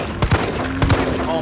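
Two loud, booming shotgun blasts fired at an enemy in the video game Resident Evil 3, spaced about half a second apart, close and heavy.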